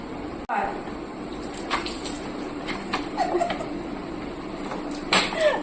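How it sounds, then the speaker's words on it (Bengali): Water runs into a plastic bottle that has a hole in it, a soft continuous splashing and trickling under someone talking, with a few brief clatters near the end. "দেখো এবার বোতলটাতে আমি জল ভরে দেখাই কি হচ্ছে"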